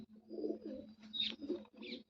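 A pigeon gives a few soft, close coos in short bursts while it is handled, with its wings gently stretched and smoothed. No one speaks.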